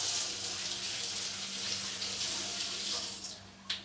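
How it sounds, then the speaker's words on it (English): Tap water runs steadily into a sink in a home kitchen for someone washing their hands, a continuous splashing rush with a brief sharper spatter near the end and no talking. "I'll wash my hands now."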